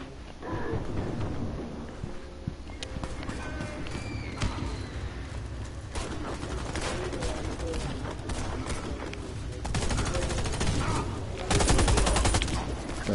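Gunfire in the shooter game Warface, dense rapid bursts and booming shots rolling continuously over a rumbling battle backdrop, growing heavier toward the end, with voices faintly mixed in.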